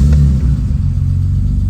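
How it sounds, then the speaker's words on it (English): A BMW E30 idles just after starting, a loud, close, steady low rumble settling as it warms up. "So we start the car to warm up"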